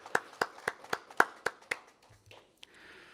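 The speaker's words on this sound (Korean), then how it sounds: "영광의 박수 올리겠습니다" A church congregation claps in a steady, evenly spaced rhythm, about seven crisp claps, before the sound dies away into quiet murmurs.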